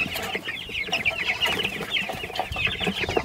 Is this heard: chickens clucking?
yes